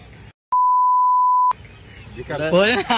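A single steady censor beep tone lasting about a second cuts in after a brief silence, followed by casual talk among friends.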